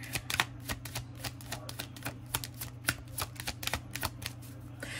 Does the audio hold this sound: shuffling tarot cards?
yes